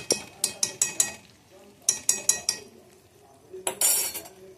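A utensil scrapes and clinks against a pan in quick rhythmic bursts while stirring jujubes cooked with jaggery, then pauses and repeats, ending with a louder sizzling scrape.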